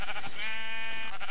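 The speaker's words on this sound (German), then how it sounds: "Schwarze Schaf, yeah." A black sheep bleats in the Minecraft video game, one loud, clear drawn-out bleat heard alone and up close, lasting about a second.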